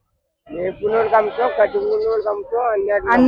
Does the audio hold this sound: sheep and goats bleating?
yes